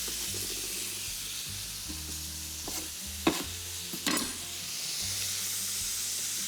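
Rocket leaves wilt in a hot pan, sizzling and hissing steadily, with a couple of sharp clanks of stirring or utensil taps partway through.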